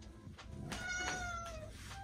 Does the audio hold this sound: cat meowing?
yes